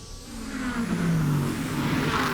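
Sports racing cars at Sebring, prototypes mixed with GT cars, roar past close by with loud, sustained engine noise as they accelerate, no talk over it.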